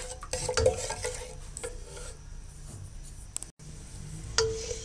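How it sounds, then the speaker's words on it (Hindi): Cumin seeds frying in a generous amount of hot oil: continuous close sizzling with occasional spoon stirs and light clinks against the pot, no voices. "ऑयल को गर्म करके इसमें ज़ीरा डालते हैं। ज़ीरे को हल्का सा फ्राई करते हैं।"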